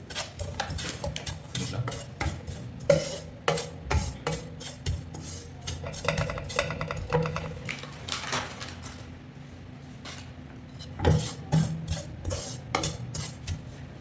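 Grated coconut mixed with powder is stirred and lightly fried in a pan, giving repeated scraping and clinking of a spoon against metal in an irregular rhythm, close and moderately loud with no talking.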